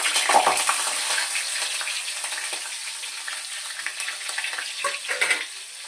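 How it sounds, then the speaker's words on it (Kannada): Onion, spices and butter frying in a pan for a paneer gravy, a steady close sizzle with faint stirring scrapes, no voices. "ಹಾಕಿ ಸ್ವಲ್ಪ ಫ್ರೈ ಮಾಡ್ಕೊಳ್ಳೋಣ."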